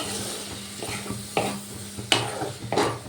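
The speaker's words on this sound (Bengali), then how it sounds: "এবার আমি সব মশলা খুব ভালো করে কষিয়ে নেব" Spices and potatoes being stir-fried in a pan for a raw papaya dish, a close sizzle with a few sharp scraping strokes of a spoon against the pan at intervals, no voices.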